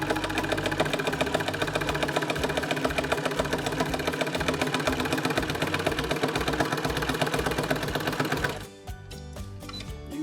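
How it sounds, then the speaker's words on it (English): A Baby Lock Jubilant sewing machine stitches a quilting row in a fast, even mechanical chatter that runs steadily near the mic, then stops near the end, leaving quieter clicks. "And now we can stitch one more row just so you can see how they end up perfectly spaced."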